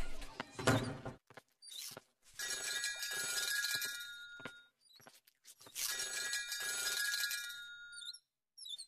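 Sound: telephone ringing in a cartoon

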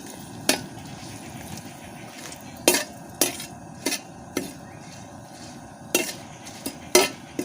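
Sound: frying four dried red chillies in a pan

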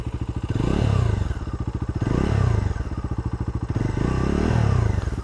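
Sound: motorcycle engine revving

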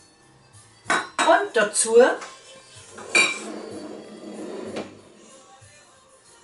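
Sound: Speckknödel dumplings being placed on plates

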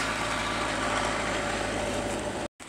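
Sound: tractor engine driving past

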